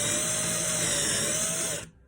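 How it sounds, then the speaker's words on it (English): A power drill whines steadily at high speed, boring a vertical hole beside a bicycle quick release, loud and close, then cuts off abruptly near the end. "Take my drill, try and keep it as vertical as possible, keep a tight hold on the quick release"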